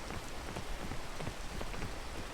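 Steady rain falls in the video game Peak, a dense continuous patter of drops hitting surfaces that stays loud and even throughout, with no voices over it.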